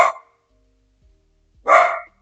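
A dog barks twice, with a short sharp bark at the start and a fuller, louder bark about a second and a half later, close by, with near silence between them.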